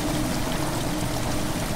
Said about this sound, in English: Water has begun slowly to fill the chamber.